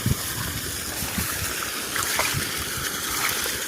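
Irrigation water flows into a rice seedling nursery, a steady low gurgling and rushing wash that runs continuously at moderate loudness, close by and without talk.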